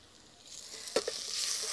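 Mutton masala sautés in a pan with salt and turmeric powder, producing a quiet, steady sizzle. A couple of brief stirring clinks sound near the middle, and no one speaks.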